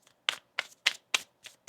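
Tarot cards riffled and shuffled by hand, six crisp bursts of card flutter in an even rhythm with clean silence between them, close and fairly quiet.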